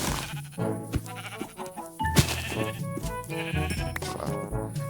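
Sheep in the Minecraft video game bleat repeatedly and loudly, layered over busy game music and effects.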